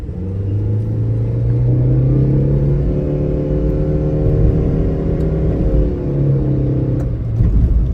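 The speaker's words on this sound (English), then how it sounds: "acceleration test up this hill" Supercharged Subaru Pleo accelerating up a hill, its engine droning loud and steady from inside the car with the pitch slowly climbing as it pulls.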